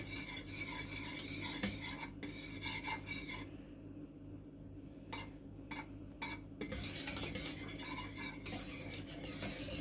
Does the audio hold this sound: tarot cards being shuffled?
no